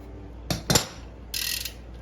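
Shimano Ultegra cassette lock ring tool being turned on a bicycle freehub, giving two short loud metallic clicks followed by a brief rapid ratcheting rattle, close up with no talking.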